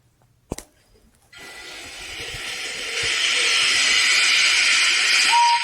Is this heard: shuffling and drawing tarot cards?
no